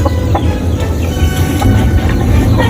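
Filipino chickens cluck and murmur together in a pen, a dense close chorus of overlapping clucks filling the short stretch without talk.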